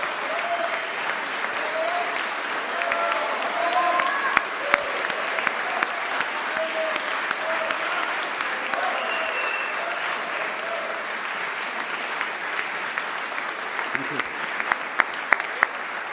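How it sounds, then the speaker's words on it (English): Audience applause at the IMD EMBA graduation ceremony: sustained, dense clapping from a large crowd, with a few sharper individual claps and faint murmured voices and brief tones mixed in. "Please, a round of applause."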